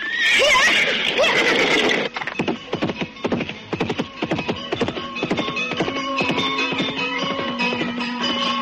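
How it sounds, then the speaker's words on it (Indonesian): In a radio drama, a horse gives a loud, shrill neigh, then galloping hooves set in as a rapid, close, rhythmic clatter that carries on steadily under a low sustained musical tone. "Sakawuni segera memacu kudanya mengitari pinggang bukit Garunggang"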